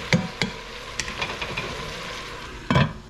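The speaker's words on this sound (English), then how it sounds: "So as I continue to cook this bacon," Bacon sizzles in a frying pan with a steady, close crackle, broken by a few sharp knocks of a utensil against the pan at the start and near the end.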